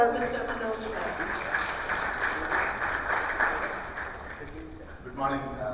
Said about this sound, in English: Ladies and gentlemen, a round of applause for Mr. Manoj Menon.